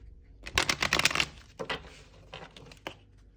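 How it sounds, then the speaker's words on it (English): A deck of tarot cards being shuffled during a reading, giving a quick run of crisp riffling clicks and card slaps, then a few softer scattered taps, close by and fairly quiet with no talking. "we'll do one last shuffle"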